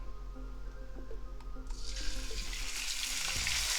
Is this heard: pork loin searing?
yes